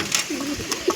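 A pigeon kept with its eggs coos in soft, low throaty bursts close by, a few short calls over a quiet room with faint background noise.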